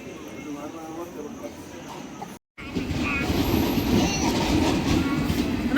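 The Rajarani night train runs on rails, its steady rumble and wheel clatter growing louder and closer after a brief break, continuous and heavy to the end.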